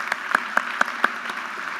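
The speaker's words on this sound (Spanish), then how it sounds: "La recibimos con un fuerte aplauso." Audience applause welcomes a speaker onstage at a science talk event, heard as a soft, steady patter of clapping with a few sharper, louder claps standing out at a regular pace.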